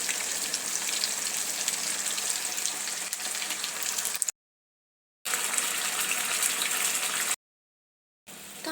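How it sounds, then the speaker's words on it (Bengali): Water added to a sizzling chili chicken sauce in a pan, giving a steady, fairly loud hissing sizzle that cuts out twice in short silent gaps before resuming. "আমি এখানে একটু জল দিয়ে দিয়েছি"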